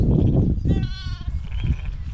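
Sheep bleat during lambing on a farm, a drawn-out wavering call rising out of a rumbling, noisy background, close and fairly loud for about half a second.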